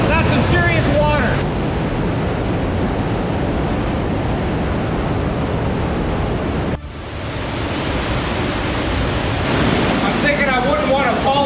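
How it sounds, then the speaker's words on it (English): Water rushes through a narrow gorge near Garmisch-Partenkirchen, Germany, a loud, continuous roar of churning water that dips briefly midway and then surges again. "there's rushing water on the other side"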